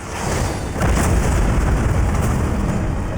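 A loud, dense boom from an explosion in the action video game Ninja Gaiden 4, surging into a sustained rumbling roar after a brief lead-in and holding heavy through to the end.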